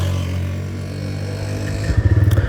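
A TVS Raider 125 motorcycle fires up with a single tap of the starter, a short whir and catch followed by a close, rhythmic idle pulse.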